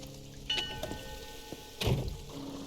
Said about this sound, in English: No reason to stand in the rain.